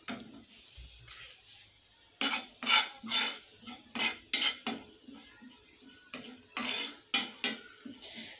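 White cumin seeds being dry-roasted in a pan produce bursts of sharp, close scraping and rattling as they are stirred and tossed against the metal, with short quiet gaps between the strokes.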